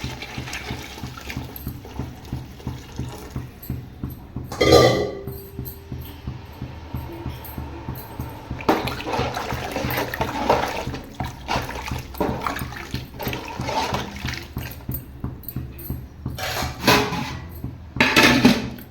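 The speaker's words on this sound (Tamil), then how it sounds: "அந்த தண்ணி இதில் சேர்த்துக்கலாம்" Water splashes and gurgles into a metal pot of mushroom biryani in a few separate pours, with clinks of cookware nearby.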